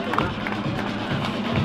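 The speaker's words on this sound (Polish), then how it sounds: "Brawa dla Seby." Crowd applause for a strongman competitor after a 300 kg lift at a Polish Strongman Cup event in Luzino, a dense, steady wash of clapping and crowd noise at close range.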